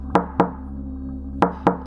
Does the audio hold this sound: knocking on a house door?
yes